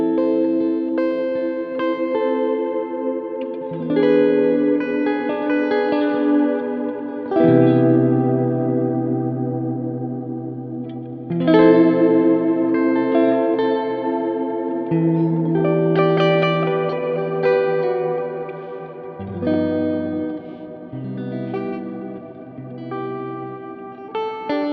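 Church-style reverb from the IK Multimedia X-Space plugin on sustained synth chords, long washy tails with a touch of modulation, each chord change blooming into a spacious echoing decay, loud and alone.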